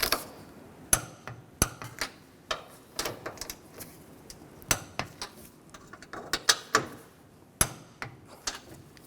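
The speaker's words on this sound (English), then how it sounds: "Now tighten the nuts down. And torque these to 33 foot-pounds." Wrench clicks and metallic clanks ring out in irregular, sharp bursts while strut nuts are tightened on a 2009-2017 Chevy Traverse front strut assembly, fairly close and moderately loud, with no talking.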